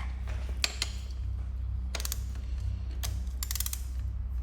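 A ratchet turns a spark plug into a Kawasaki ZZR600 motorcycle engine in a few short bursts of quick clicking, close and fairly quiet over a steady low hum.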